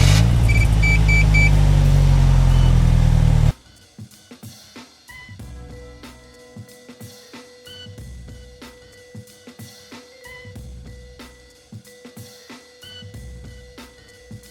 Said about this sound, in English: Now when you start the slingshot, you should hear a very manly activation alert from the speaker.